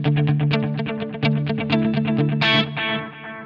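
Electric guitar through a Line 6 Helix patch with ping-pong delays: a run of picked notes whose repeats bounce back and forth, ending on a brighter strummed chord that rings out, heard alone.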